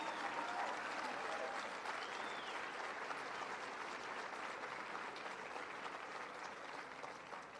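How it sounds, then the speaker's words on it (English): A crowd at a vice-presidential event in Council Bluffs, Iowa, applauds Governor Kim Reynolds: dense, sustained clapping from a large audience, fairly distant and slowly tapering toward the end. "Would you all mind giving a big round of applause to the 43rd governor of the great state of Iowa, Governor Kim Reynolds?"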